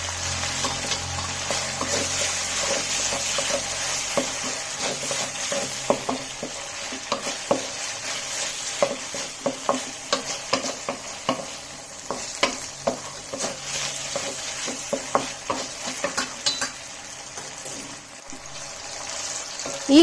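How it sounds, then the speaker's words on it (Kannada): Tomatoes frying in a pan for a restaurant-style mushroom masala gravy, a steady sizzle with repeated stirring scrapes and clicks of a spoon against the pan, close and continuous without talk. "ಟೊಮೆಟೊ ಚೆನ್ನಾಗಿ ಫ್ರೈ ಆಗಬೇಕು."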